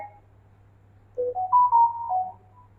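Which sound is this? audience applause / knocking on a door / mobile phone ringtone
mobile phone ringtone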